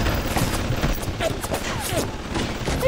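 Sustained gunfire from splicers shooting at each other in BioShock, a dense rattling volley of shots running throughout over a noisy game background.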